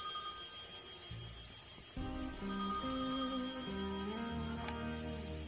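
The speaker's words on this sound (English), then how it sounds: "And the phone's ringing already." A telephone rings in the point-and-click adventure game Thimbleweed Park, a repeating electronic bell-like tone layered over game music, loud and steady with no talk.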